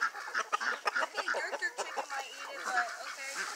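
Chickens cluck and squawk busily while being fed stale crackers on a farm, a dense cluster of overlapping calls close by with no talking.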